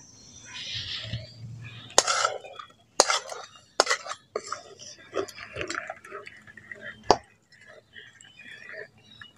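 A spoon stirs caramel into milk in a pot while making danadar sweets from raw rice, with scraping and clinking against the metal in irregular bursts, close and moderately loud.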